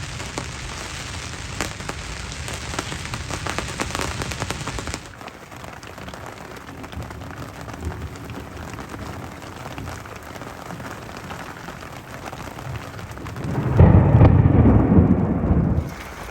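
A heavy thunderstorm pours down at the Glow Worm Tunnel campsite in Wollemi, with dense, steady rain drumming close by, a loud rumble of thunder swelling near the end, and no voices.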